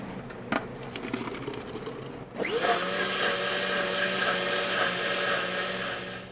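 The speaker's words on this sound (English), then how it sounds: "we will take it to the blender." A countertop blender whirs up to speed and runs steadily, loud and close, blending cooked berries for wožapi, a Lakota berry sauce, after a brief quieter stretch of kitchen clatter.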